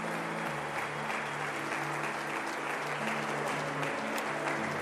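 Congregation in a church clapping, sustained crowded applause under a low hum and faint background tones, continuous from start to finish.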